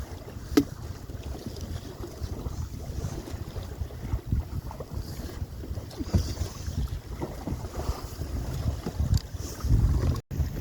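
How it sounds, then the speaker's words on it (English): Wind rushing past a small sailing canoe heading out to sea at about five knots, a steady low buffeting roar mixed with water slapping against the hull, with no one talking. "There's a fair bit of wind."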